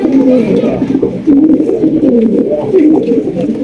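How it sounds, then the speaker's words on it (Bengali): Close, loud Gola pigeons coo continuously in soft throaty rolls at a pigeon farm, several calls overlapping. "এখানে আরো এক জোড়া গোল্লা কবুতর দেখতেই পাচ্ছেন"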